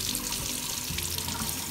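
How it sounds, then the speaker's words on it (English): Cold water poured into a hot picture mug makes a continuous rushing, splashing flow that stays loud and steady throughout, with no voices. "so I was trying to pour cold water"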